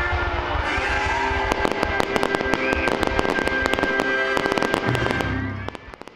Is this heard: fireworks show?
yes